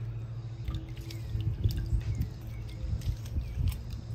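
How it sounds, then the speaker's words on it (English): Lemon squeezed by hand over a griddle dish of Tuscan chicken tortellini, close soft squishes and uneven juice drips over a faint low hum, no talk. "We're gonna squeeze all that lemon in there."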